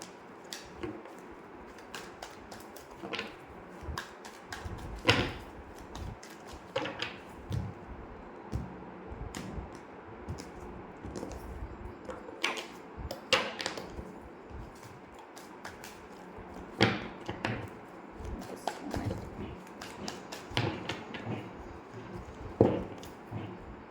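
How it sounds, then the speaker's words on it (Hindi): Tarot cards drawn and shuffled from a deck for a Hindi-language Scorpio love reading: a steady run of soft, close card snaps and papery flicks at an irregular rhythm, with no talk. "मैं कार्ड्स निकाल लूँ।"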